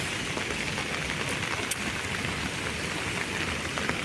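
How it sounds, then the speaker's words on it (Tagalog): Steady rain pours down in Hong Kong, a dense, even hiss of drops with occasional louder patters, close by and continuous. "Ilang araw nang umuulan sa Hong Kong guys."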